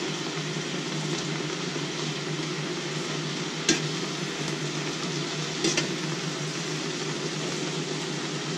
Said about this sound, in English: You can already smell the aroma of the collards with this here frying process.